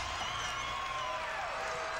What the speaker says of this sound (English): And that brings the crowd into it.